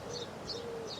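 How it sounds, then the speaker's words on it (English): Birds call outdoors on a sunny day near green grass, trees and water: a low repeated cooing and a few high chirps recur about every half second over a steady background hiss. "birds singing"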